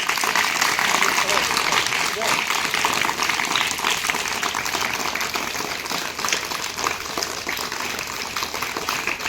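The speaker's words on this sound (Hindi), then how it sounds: "एक बार राजा राम सर जी के लिए ताली बजा दो भाई" An audience of students applauds at a Children's Day school gathering, a dense continuous roar of many hands that holds steady for the whole stretch while a voice speaks over it.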